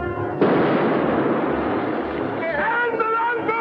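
Ship's cannon fires in a period sea battle, a sudden heavy boom with a long rumbling roar that rolls on for several seconds, ending with raised voices shouting beneath it.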